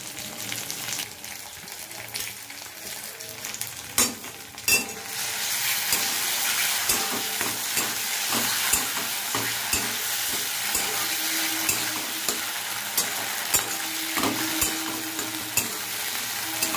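Paneer frying in oil in a pan for a homemade pizza, a dense continuous sizzle and crackle up close that swells louder after a few seconds, with occasional clinks of a utensil and no voices.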